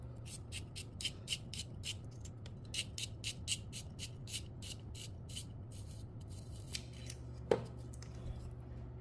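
A KUM pencil sharpener works a graphite pencil with a quick run of regular dry scraping strokes, close and crisp, ending in a pause and a sharp click.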